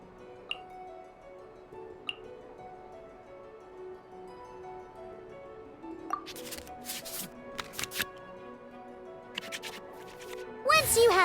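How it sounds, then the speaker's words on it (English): Digital card-shuffling effects from the Genius Invokation TCG card game in Genshin Impact: a few soft ticks, then a run of quick flicking clicks building to a dense burst at the end, over a faint musical background. "we can select any number of cards in our hand to shuffle back into the draw pile, and then draw the same number of new cards"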